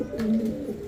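A red magpie pouter pigeon gives a single short, low coo close by, a soft rolling call with no voices over it.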